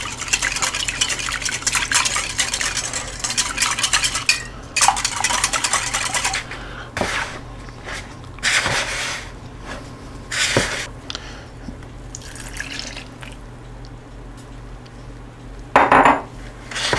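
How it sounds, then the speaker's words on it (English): Orange juice and egg whisked together in a bowl for cranberry bread batter, with repeated clinking and scraping of utensil against the dish in bursts and pauses, close by and fairly loud, no talking. "I'm going to take the orange juice, the egg, and I'll whisk them together."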